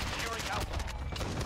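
Rapid bursts of automatic gunfire in the Call of Duty shooter crackle densely and continuously, loud and close, with overlapping shots and no clear pauses.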